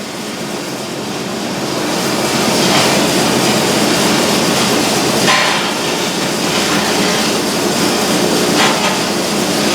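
A large bandsaw running noisily in a workshop: a loud, continuous broadband roar with a rattling, hammering texture that swells slightly after the start and holds steady, with no voices.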